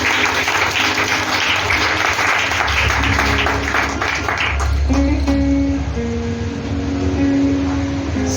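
Church congregation applauding during a French-language worship service, a dense, steady wash of clapping that fills the whole stretch at close range, with sustained tonal sounds, likely music or voices, rising underneath toward the end.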